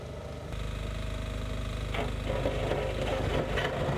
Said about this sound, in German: Der zweite Bagger hat nun die Aufgabe, das Schotterbett komplett auszuheben.